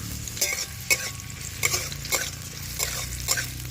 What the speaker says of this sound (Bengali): এখন এই তেলে দিয়ে দেবো একটা মিডিয়াম সাইজের পেঁয়াজ কুচি এই পেঁয়াজটাকে হালকা একটু ভেজে নেব